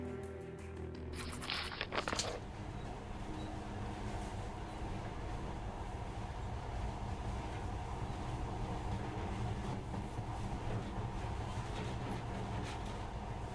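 A monorail in Metro Last Light Redux runs with a faint, steady low rumble and a few clattering knocks near the start.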